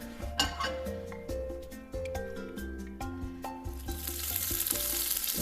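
Butter sizzling in a hot pan for pancakes, a hiss that swells in the final second and a half after a stretch of background music and light kitchen clinks.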